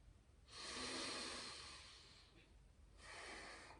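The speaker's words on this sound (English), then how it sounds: "Breathe out again." A slow, audible exhalation during yoga bandha practice, close and breathy, lasts about two seconds before a pause and a second outward breath begins.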